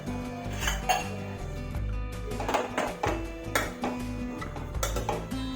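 A metal pot clanks and knocks as it is set onto a stove to steam patra in a village kitchen, several close clatters and taps with a steady low hum beneath.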